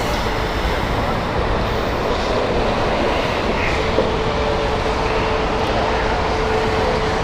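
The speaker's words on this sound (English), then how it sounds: "It's a 6-year-old aircraft, 787-9" A Boeing 787-9 airliner inbound to Heathrow Airport roars steadily as it approaches, a loud, continuous broadband rumble with no gaps over several seconds.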